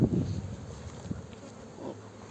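Honeybees buzz around an open hive in early spring, a low, uneven hum with a few sharper passes as individual bees fly close, fairly faint and steady throughout.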